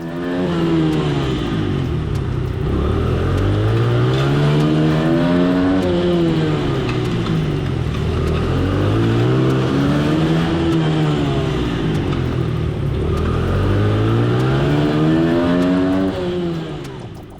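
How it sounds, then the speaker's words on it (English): Small Honda motorcycles racing on a flat track, engines held in low gear, rising and falling in pitch in repeated waves as the bikes circle, loud and continuous with no talk. "These little Hondas never get out of second gear around here"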